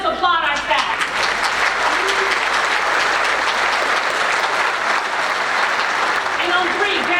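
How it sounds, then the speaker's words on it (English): Graduates at a technical school graduation ceremony applaud the school staff, a loud, sustained roar of clapping filling a large hall for several seconds, with some cheering and voices mixed in. "Graduates, let's applaud our staff."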